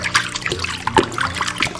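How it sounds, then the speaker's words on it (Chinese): Raw beef being washed under running water, close trickling and splashing with irregular small spatters as the meat is rubbed, short and with no speech. "我们先把牛肉给它清洗干净。"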